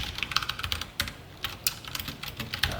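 Close, rapid typing on a computer keyboard while C array code is written, with quick irregular bursts of key clicks and short pauses, no voices.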